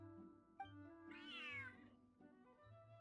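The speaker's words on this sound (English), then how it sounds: "Big ferocious cat." A big cat in Genshin Impact gives one long, rising-and-falling meow over steady game music, moderately close and clear.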